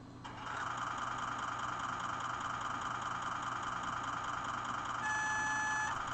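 An SD75M model diesel locomotive sound decoder on a test stand plays a steady, droning idling engine rumble through a small speaker. A few thin electronic tones sound over it near the end.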